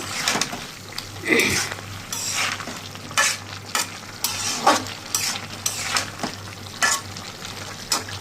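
Fish curry spices sautéing in a pan, with a low steady sizzle and repeated scraping stirs of a spoon against the pan, close up and moderately loud, with no talking.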